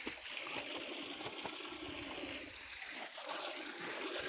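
Water from the hills near Doti, Nepal, runs in a faint, continuous stream, a soft rushing and trickling from a distance.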